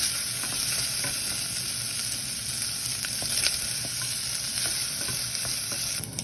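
Ham fries in a pan until browned, a steady dense sizzle with faint stirring ticks throughout and an even, close level, no speech.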